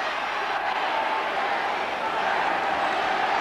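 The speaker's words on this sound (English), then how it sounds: "the Wigan crowd roaring behind Wigan, urging them on to defend" A large rugby league crowd of Wigan fans roars steadily in a stadium during a Wigan versus Castleford Regal Trophy semi-final, a dense, continuous wash of noise with a commentator talking over it.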